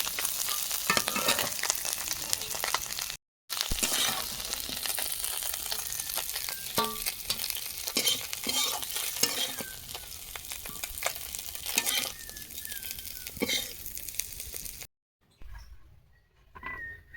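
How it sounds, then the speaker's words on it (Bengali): Prawns frying in a hot pan, giving a dense, continuous crackling sizzle with occasional stirring clatter, close by and moderately loud, broken by two brief cuts to silence and no talking. "চিংড়ি মাছ ভেজে নেব চিংড়ি মাছ ভেজে নিয়েছি"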